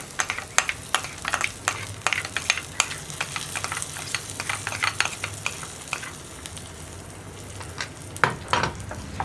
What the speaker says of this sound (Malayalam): ഇനി നമുക്ക് നമ്മുടെ വറവ് കറിയിലേക്ക് ചേർത്ത് കൊടുക്കാം.